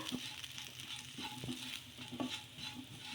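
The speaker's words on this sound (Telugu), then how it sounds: "ఇలా ఈ విధంగా పిండి వేసుకొని మొత్తం ఒకసారి బాగా కలిపేసుకుందాము." Faint, close stirring and scraping of cluster beans coated with gram flour in a frying pan, with a soft sizzle underneath and a few spoon taps against the pan.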